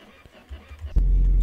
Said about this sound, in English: Ignition.